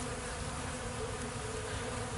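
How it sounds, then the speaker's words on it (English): Honeybees hum in a dense, constant drone at the hive, a steady uninterrupted buzz with no voices. "These are beautiful bees"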